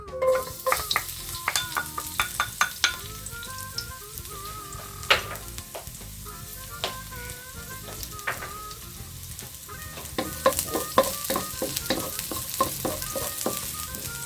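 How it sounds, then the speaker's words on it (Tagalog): Minced garlic sautéing in hot oil in a pan for a Filipino okra and ground meat dish, with a continuous sizzle punctuated by quick clicking spatula strokes and scrapes, close and fairly loud. "So, igisa na natin yung bawang."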